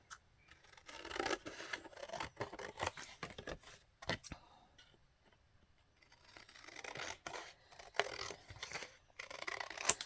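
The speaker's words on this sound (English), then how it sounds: "Let's go ahead and cut the edges off of it." Scissors snipping and trimming the edges off journal paper, bursts of crisp cutting and rustling with short pauses between, close and quiet.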